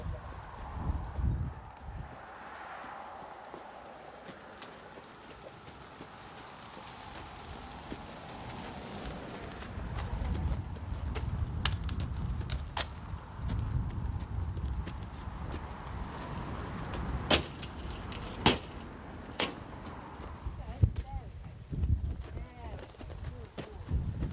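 A young Shire horse's hooves walk steadily with uneven clopping over a metal ramp and past hazards, joined by occasional sharp clanks and taps, with soft ambient noise throughout.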